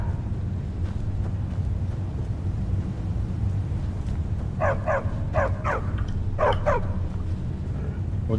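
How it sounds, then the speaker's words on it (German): Several dogs in Skyrim bark in short, quick bursts of two or three yips, near and fairly loud over a steady low rumble of game ambience. "Kümmert euch nicht um die Hunde. Sie werden nervös, wenn sie nichts gegessen haben."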